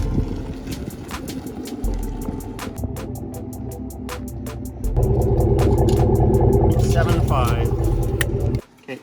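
Pickup truck towing a camper trailer pulls out toward the street, engine running steadily with a louder, heavier drone as it moves off, a series of sharp clicks or ticks throughout, and brief talk near the end.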